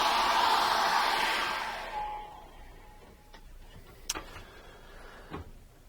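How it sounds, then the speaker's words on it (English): A steady broadband whoosh of a hair dryer drying paint blows loudly for about two seconds, then cuts off, leaving a quiet room with a few small clicks. "So let's dry that off with a hairdryer."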